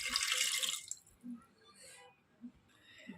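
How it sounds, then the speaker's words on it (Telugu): Water pours from a vessel into a cooker over chopped carrots for carrot juice, a close splashing gush for about a second, followed by a few faint drips and small clinks. "ఇప్పుడు మనం వాటర్ వేసుకుందాం."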